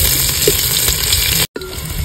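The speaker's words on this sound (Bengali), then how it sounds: "পেঁয়াজটা হালকা নেড়ে চেড়ে নেব।" Chopped onion frying in a pan for village-style chicken kosha curry, with a steady hiss and sizzle throughout and a few soft stirring scrapes, broken by a brief pause near the end.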